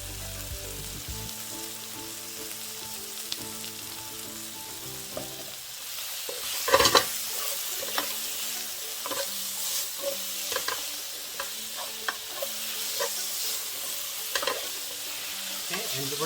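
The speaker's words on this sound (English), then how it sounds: "And we're just gonna stir it nice and about at medium heat." Garlic frying at medium heat in a pan and being stirred, with steady sizzling and spatula scrapes and knocks that grow busier partway through, close and fairly loud, with no talking.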